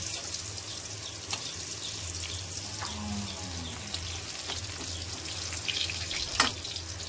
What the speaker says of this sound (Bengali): প্রথমে আমি কুমড়োগুলোকে নুন হলুদ মাখিয়ে রেখেছিলাম, কুমড়ো দুটো ভেজে নেব।